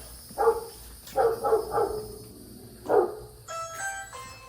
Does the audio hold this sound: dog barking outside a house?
yes